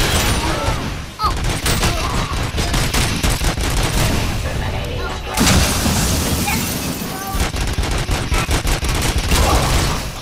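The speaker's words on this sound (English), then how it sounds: "We getting shot at from all sides." Gunfire rattles from all sides in a Robocop video game, dense continuous volleys of shots and impacts filling the scene loudly with barely a pause.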